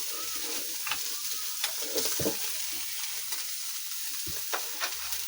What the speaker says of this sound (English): I'll have to add some oil because of the fire.